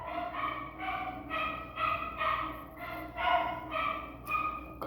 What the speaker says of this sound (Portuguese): Cachorro do vizinho latindo.